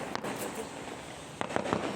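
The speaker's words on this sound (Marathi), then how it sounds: "फटाके फोडणं चालू आहे कशाचं तरी सेलिब्रेशन चालू आहे" Firecrackers burst during a neighbourhood celebration, heard from a terrace: several sharp cracks at a moderate distance, one early and a quick cluster near the end, over a faint background hum.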